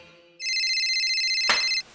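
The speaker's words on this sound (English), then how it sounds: "Turn off your cell phones." A cell phone ringtone plays loud and close: a steady electronic warble lasting about a second and a half, cut by a sharp noise burst near its end, with no talking.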